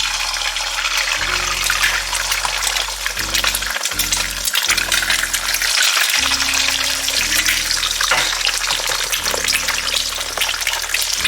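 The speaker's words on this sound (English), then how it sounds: "I'm gonna fry eggs first" Eggs frying Thai style in a generous pool of hot oil give a loud, steady crackling sizzle that runs unbroken throughout, with low background music underneath.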